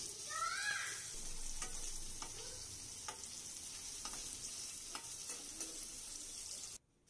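Paneer sizzles in a pan with a steady frying hiss, broken by several soft scraping stirs of a spoon spaced through the clip, fairly quiet and close, with no talk.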